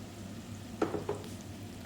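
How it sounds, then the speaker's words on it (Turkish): Onions and potatoes frying in a pan, a low steady sizzle with a couple of brief stirring clatters partway through, close and quiet with no talking. "İndi isə kartoflarla birlikdə qovuracağım."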